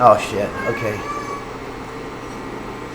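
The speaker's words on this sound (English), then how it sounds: "that's my cat, who might be hungry" A hungry cat meows in a home kitchen during a live cooking session, a couple of short cries near the start while someone talks over them.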